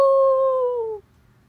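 A baby imitates a howling dog with a single long, steady vocal howl, loud and close, holding its pitch for about a second before stopping abruptly into quiet.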